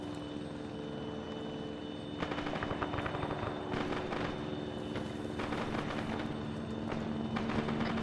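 A helicopter in the Arma 3 military game, its rotor and engine droning steadily throughout while bursts of gunfire crackle over it in several short clusters.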